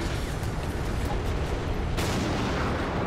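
Tank cannon shot in War Thunder with a StuG assault gun, a dense booming blast with heavy low rumble and a sharp crack near the two-second mark, loud and close with no talking.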